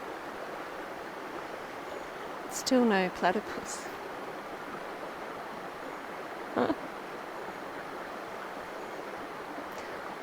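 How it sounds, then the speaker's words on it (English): Flowing water of the Maribyrnong river after rain, a quiet, steady broadband rush that continues throughout, with a few brief spoken words over it. "the sound of the water is actually drowning out the aeroplanes in the background"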